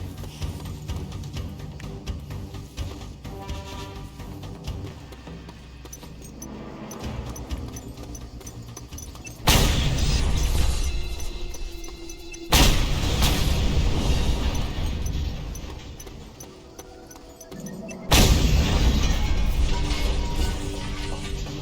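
Grenade explosions in the open-world game Just Cause 2, on the island of Panau; three heavy, sudden booms, each followed by a rolling rumble that fades, between stretches of quieter game noise.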